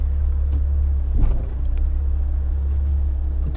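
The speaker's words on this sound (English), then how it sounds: "Put the shifter in gear and just go out a little careful" A 1971 Ford Econoline van idles with a steady low engine rumble as it starts pulling away, with one brief heavier thump in the middle and no talking.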